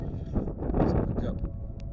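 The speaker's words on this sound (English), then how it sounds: "it's pretty windy here" Gusts of wind blow across a New Zealand cemetery, buffeting the microphone with a low, rustling rumble while a voice speaks faintly underneath.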